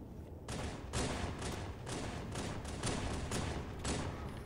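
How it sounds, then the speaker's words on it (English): Halo 3 Infection multiplayer gunfire rattles in dense, continuous bursts of rapid shots, loud and close, with barely a pause across the stretch and no voices. "That was a fantastic shot on their part."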